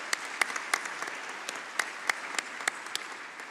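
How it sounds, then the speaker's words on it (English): Steady applause from a conference audience at an NAHT school leaders' gathering, with a dense patter of many hands and a few sharper claps standing out. It sounds moderately distant and even in level throughout. "let's have another round of applause for Katie"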